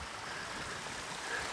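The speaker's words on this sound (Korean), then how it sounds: "물소리 들리시죠?" A mountain valley stream in the deep gorges of Jeongseon, Gangwon-do, flows with a soft, steady rush of water that stays quiet and even throughout, with no voices over it.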